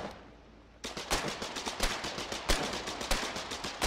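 Video game gunfire erupts after a brief quiet, in rapid, loud repeated bursts of automatic shots from several weapons firing together.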